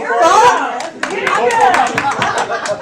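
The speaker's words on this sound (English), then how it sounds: "Round of applause." A burst of clapping from a small group rings out, loud and close, with voices mixed in around it.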